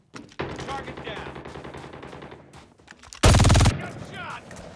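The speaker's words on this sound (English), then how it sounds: "Gunshot! Target's in sight!" Rapid automatic gunfire from Call of Duty Mobile gameplay, dense bursts of close shots running continuously and capped by a very loud blast, with game voice callouts and speech mixed in.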